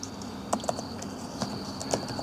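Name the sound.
typing numbers into a calculator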